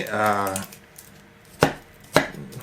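A brief voice, then two crisp knife chops through an onion on a cutting board, close up and spaced about half a second apart.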